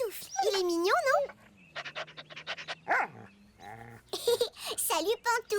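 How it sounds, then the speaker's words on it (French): Pantoufle, a cartoon dog in a French children's animated episode, pants and whimpers in short breathy bursts and soft whines, heard between and beneath nearby dialogue from the characters. "Oui, c'est vrai que c'est un très beau chien."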